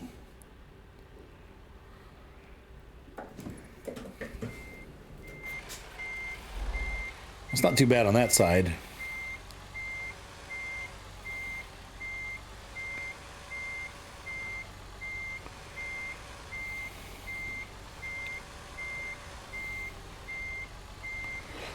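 Steady reversing beeps from a truck in American Truck Simulator repeat at an even pace, with a brief burst of engine and air noise and a voice talking early on.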